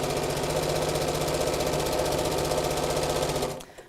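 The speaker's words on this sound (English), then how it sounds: "you'll have quite a thickness of fabric to sew through there" Steady, fast mechanical chatter of a sewing machine stitching through several layers of thick fabric at the handles of a fat-quarter tote bag, running continuously and close before stopping abruptly near the end.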